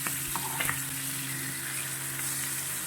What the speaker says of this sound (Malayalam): വെളിച്ചെണ്ണ ചൂടാകുമ്പോൾ ഇതിലേക്ക് നമ്മൾ മാരിനേറ്റ് ചെയ്ത് വെച്ച മീൻ ഇട്ട് കൊടുക്കാം